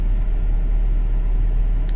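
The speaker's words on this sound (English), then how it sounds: "Car is on," A 2008 GMC Yukon XL 2500 truck with a faulty brake light switch idles nearby, giving a deep, steady low rumble with no other sounds.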